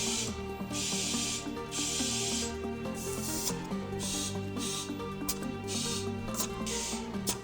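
Air hisses steadily as it inflates the tires of a Corvette C8 that had sat for six months, with rhythmic surges and mechanical ticking from the pump under a continuous loud whoosh and no talking.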